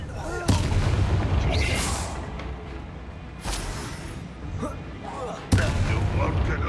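Three heavy explosive blasts from the Confringo spell in the Hogwarts Legacy video game boom out at intervals, each a sharp, loud burst that decays into rumbling combat noise.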